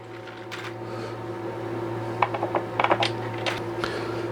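Small metal clicks and taps as 5mm by 22mm socket head cap screws drop into holes during assembly of a Sainsmart Genmitsu 4040 Reno CNC, a quick cluster of light clinks over a steady machine hum.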